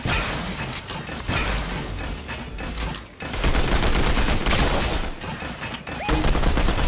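Rapid, dense gunfire from the Fortnite video game, with volleys and bursts crackling almost nonstop at close range, briefly dipping near the three-second mark before surging loud again.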